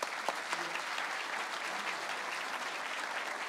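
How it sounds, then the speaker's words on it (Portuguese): Audience applauding at a ceremony celebrating the Federal Justice anniversary in Paraná: dense, steady clapping from a crowd, fairly distant, continuing throughout. "Uma salva de palmas para essas meninas."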